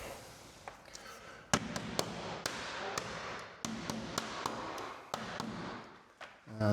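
Sharp hammer taps drive a glazing bead into the frame of a uPVC sliding patio door, a dozen or so close, crisp knocks at uneven intervals.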